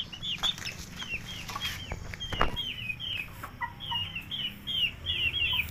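A chicken clucks repeatedly beside a newborn calf, sharp short calls in a steady run near the listener, with a few soft thumps and no talking.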